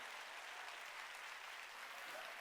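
Congregation clapping during a Wednesday evening church service, a steady, dense wash of applause from many hands throughout, moderately distant and even, with no talk over it.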